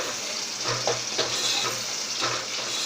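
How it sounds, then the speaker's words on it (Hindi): Onions sauté lightly in a pan while masala is cooked for a kala chana chaat, giving a steady, close frying sizzle with a few soft stirring scrapes throughout. "प्याज हल्के से सौते"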